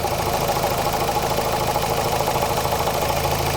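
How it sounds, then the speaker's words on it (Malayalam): A Mahindra Renault Logan diesel engine idles close by with a loud, steady clattering rumble and even vibration throughout, with no voices. "ഓൾമോസ്റ്റ് വണ്ടിയുടെ ഈ ഒരു സൗണ്ട് പെർഫെക്റ്റ് ആയിട്ടുള്ള ഈ ഒരു ഡീസൽ എഞ്ചിൻ്റെ സൗണ്ട് കിട്ടുകയാണെങ്കിൽ തന്നെ വണ്ടി പെർഫെക്റ്റ് ആയിരിക്കും"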